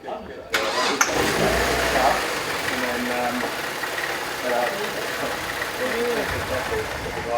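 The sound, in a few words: car engine running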